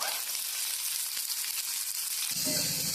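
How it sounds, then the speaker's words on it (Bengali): Onion, tomato, dried and green chillies frying in ghee, a steady close hiss of sizzling throughout with a brief stir near the end, no voices. "এখন আমি সমস্ত উপকরণগুলোকে হালকা একটু ভেজে নেব"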